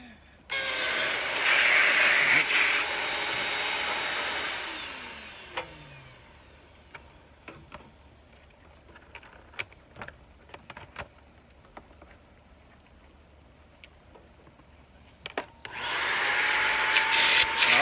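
A suction device drawing fluid out of a 2006 Yamaha 115HP outboard motor during a thermostat replacement, a steady loud whooshing drone that runs for several seconds, gives way to quiet clicks and knocks, then starts up again near the end.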